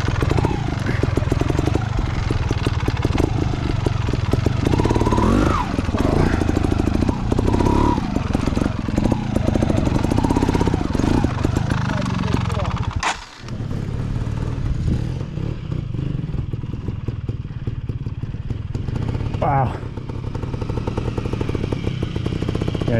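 A TRS Xtrack trials motorcycle works up a rough forest trail in Gifford Pinchot National Forest, its engine droning and blipping close and loud with clattering and scraping over rocks, a brief dip midway.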